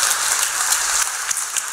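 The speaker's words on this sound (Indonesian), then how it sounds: "tepuk tangan saudara" Steady, dense applause from a seminar audience, a continuous hiss of many hands clapping at an even level with no talking over it.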